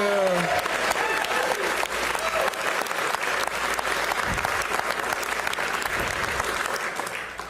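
Loud, continuous crowd applause at a bill signing for the Family and Medical Leave Act, full and even throughout, with a brief voice at the very start.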